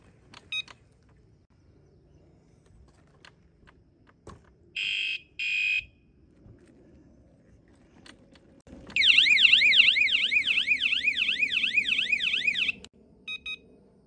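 A 120 dB anti-theft alarm on a Vitilan U7 folding step-through e-bike chirps twice when armed, then wails in a loud rapidly warbling siren for several seconds before stopping, followed by short beeps.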